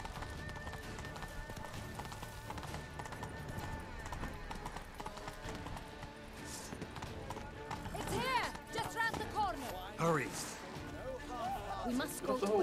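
A horse gallops with rapid rhythmic hoofbeats during a ride in the video game The Witcher 3, with a snort or whinny near the end and voices talking over it throughout.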